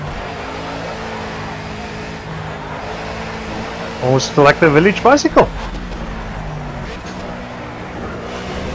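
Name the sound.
race car engine and downshift in video game Project Cars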